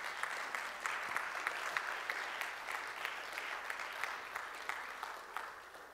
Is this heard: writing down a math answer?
no